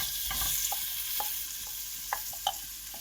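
Finely sliced onions fry in a pan with cumin for a vegetable achards, giving a soft steady sizzle broken by a few light scrapes and clicks of stirring, fairly quiet and with no talking.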